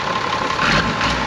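An old 105-horsepower tractor engine idles in a steady, continuous rumble, close and moderately loud, with no voices over it.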